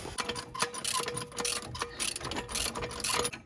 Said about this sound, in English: an 18mm ratchet on the right side